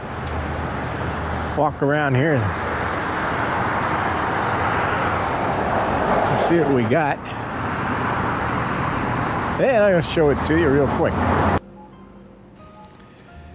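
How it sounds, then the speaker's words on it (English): Steady roar of passing highway traffic fills the background while someone talks over it, then the noise cuts off abruptly near the end. "All the noise you just heard in the background, that's highway"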